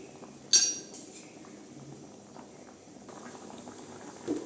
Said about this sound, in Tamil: இன்னும் கொஞ்ச நேரம் நல்லா கொதிக்கிட்டுங்க குழம்பு